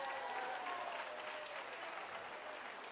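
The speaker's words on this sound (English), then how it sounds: "Give this guy a big round of applause." An audience gives a sustained round of applause for a boy called up on stage at a live show, a steady wash of clapping at moderate distance with faint voices mixed in.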